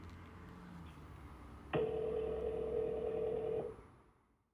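A telephone call being placed: after a quiet, faintly murmuring background, a single steady telephone tone sounds for about two seconds, then cuts off as the room fades.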